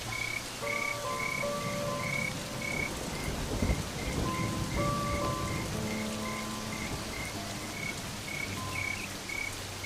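Heavy rain pours steadily, with a burst of thunder partway through. Frogs croak in repeated calls and insects chirp throughout.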